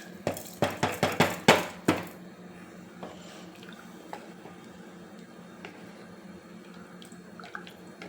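Washed rice is tipped into a pressure cooker with egg biryani masala, a quick series of sharp wet splashes and clatters in the first two seconds, then faint scattered kitchen clinks and a quiet room.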